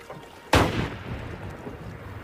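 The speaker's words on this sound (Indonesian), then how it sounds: "dikagetkan dengan suara tembakan dari arah kabin" A single loud gunshot cracks out suddenly from a cabin in a remote forest, followed by a short, decaying echo.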